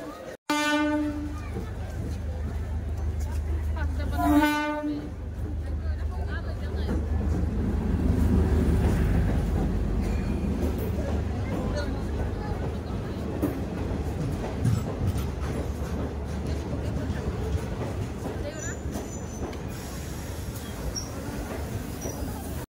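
A DEMU special passenger train pulls into a station with two blasts of its horn near the start, followed by a long rumbling roll of wheels and carriages amid crowd noise.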